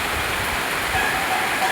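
Rain falls in a steady, even rush of broadband patter on a rainy day, with no voices.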